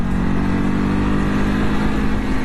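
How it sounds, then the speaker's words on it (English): Revving twin-cylinder exhaust of a 2023 Ducati Hypermotard SP motorcycle, a loud, close, steady throbbing engine note that holds without a break and with no talk over it. "The exhaust barks at you too."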